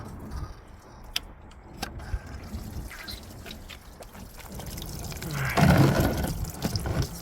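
Coolant and transmission fluid drain from a car during an automatic transmission replacement on a D16Y5 engine, a soft irregular trickle and splash with scattered drips and a fuller gush near the end.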